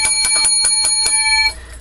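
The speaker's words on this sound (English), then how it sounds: "little levity with my jingle bell" A small jingle bell shaken in a quick run of about eight bright metallic rings, close and loud, then cut off into quiet room noise.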